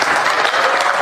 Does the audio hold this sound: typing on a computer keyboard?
no